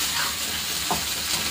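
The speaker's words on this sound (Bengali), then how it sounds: "ওটা দিয়ে একটু ভাজা করে নিচ্ছি আর কি" Salt, turmeric, green chilli and a spice mixture fry in oil with a steady broadband sizzle that continues throughout, along with a brief soft scrape of stirring partway through.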